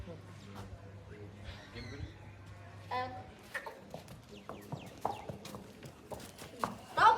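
Horse hooves clip-clop in an uneven series of sharp knocks on hard ground, with murmuring voices and farmyard background noise around them.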